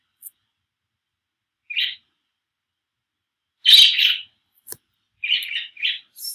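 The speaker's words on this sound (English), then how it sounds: "my birds, they are tweeting right now." Pet birds chirping in Roblox Bloxburg, a few short high tweets scattered through quiet gaps, clear but brief.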